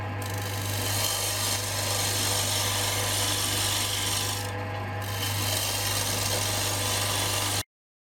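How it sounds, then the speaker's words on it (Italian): A 13 mm gouge roughs the outside of a wooden blank spinning on a lathe, producing a continuous harsh scraping rasp over the lathe's steady motor hum, loud and close, with no talk, ending abruptly. "Sgrossiamo l'esterno con una sgorbia di 13 mm."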